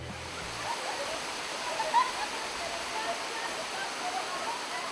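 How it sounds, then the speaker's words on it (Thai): Waterfall over sixty feet high on Bohol island, a steady broad rush of falling water at moderate level, with a brief low voice at the very start. "ที่นี่ก็มีน้ำตกด้วยนะครับน้ำตกนี้สูงประมาณ60กว่าฟุต"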